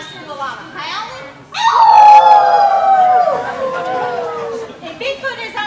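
A person imitates a Bigfoot's long, wavering howl that slides downward in pitch, preceded by a shorter vocal wail, close and fairly loud.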